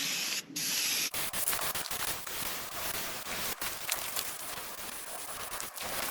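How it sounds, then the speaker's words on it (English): Krylon spray paint hissing from an aerosol can onto wooden pantry doors, a steady airy spray in a few long bursts broken by brief pauses, close and fairly loud. "Just a little Krylon, a little spray bomb."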